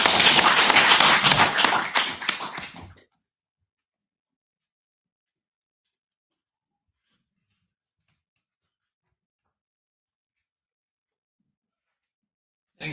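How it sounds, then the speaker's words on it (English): Audience applause at a Hiroshima and Nagasaki memorial peace gathering: a dense burst of clapping that lasts about three seconds, then stops abruptly into silence. "let's all give him a round of applause"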